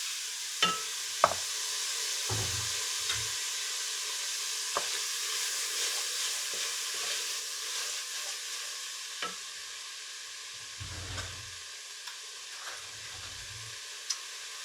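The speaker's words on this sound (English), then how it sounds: "And we'll add the hamburger in." Ground beef for lasagna sizzles steadily in a pan while being stirred, with scattered scrapes and clicks of the utensil and a few low knocks over the constant frying hiss.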